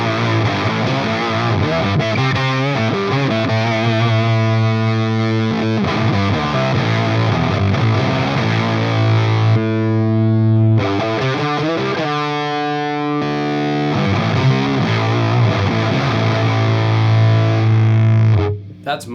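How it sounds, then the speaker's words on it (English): An electric guitar played through an octave fuzz pedal gives a thick, heavily distorted tone. Loud chords and riffs sustain throughout, with a brief gap in the middle. "With these octave fuzzes, you could hear them sort of get really strong on certain frequencies of the neck"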